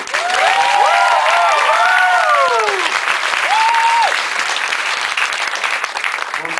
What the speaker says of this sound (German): Ein Applaus für mein Orchester.